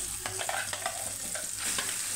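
Ground Andhra-style radish chutney being stirred into a fried tempering with curry leaves: quick scraping stirs over a faint, steady sizzle, close and quiet, with no talk.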